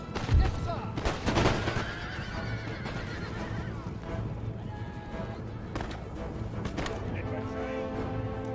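Horses neigh and whinny during a battle in Empire: Total War, with clip-clop hooves and crackling musket fire mixed in; the noise is loud, busy and continuous.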